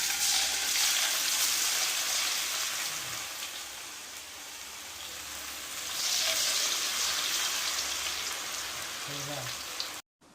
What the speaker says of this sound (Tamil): எண்ணெய் காஞ்சிட்டோடனே பக்கோடா எடுத்து போட வேண்டியதுதான்